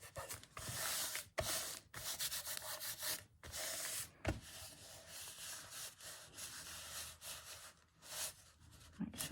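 A hand smooths down art journal paper with close, repeated rubbing strokes in an uneven rhythm, separated by short pauses.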